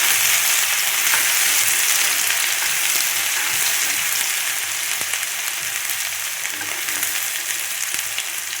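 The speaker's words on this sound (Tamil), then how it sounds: "இப்போ கடுகு நல்லா பொரிஞ்சிச்சு, இதை போட்டுறோம்" Mustard seeds and raw mango frying in hot oil give a steady, loud sizzle with fine crackling and occasional soft pops throughout, with no talking.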